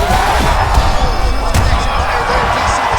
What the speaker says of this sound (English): The crowd's going crazy because they just saw two high-level grapplers mix it up on the ground.